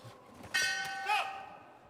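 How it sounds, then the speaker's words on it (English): A boxing ring bell at the 2021 Youth World Boxing Championships rings to end round one, two bright metallic strikes about half a second apart with a lingering ring, under faint background voices. "There goes the bell at the end of round one."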